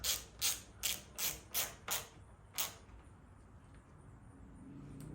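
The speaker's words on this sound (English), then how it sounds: "Go ahead and snug your bolts down." Engine coil bolts on a 1982 Billy Goat are snugged down with a ratchet, seven quick, close clicking bursts in a steady rhythm, then quiet.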